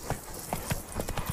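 Horse hooves clip-clop at a steady trotting rhythm in The Witcher 3, a brisk series of close, even hoofbeats with no talking over them.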